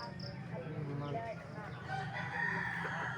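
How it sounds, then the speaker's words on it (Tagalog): A rooster crows amid chattering chickens and other birds in a rural countryside setting, the calls fairly close and overlapping with a general murmur of fowl. "Yan, daming ibon."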